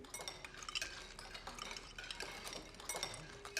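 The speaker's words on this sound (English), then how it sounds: "The sound of the cleaning cutlery is just unsettling" Cutlery clinks and scrapes against plates and dishes at a meal table in a Last of Us TV episode, with irregular light metallic taps and stirring, fairly quiet with soft background sound.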